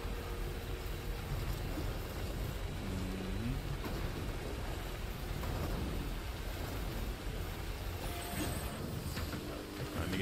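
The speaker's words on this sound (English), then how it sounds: "wow, it's raining heavy on these streets" Heavy rain pours steadily over city streets in the video game Death Stranding, a dense continuous wash of rainfall with occasional faint background game sounds.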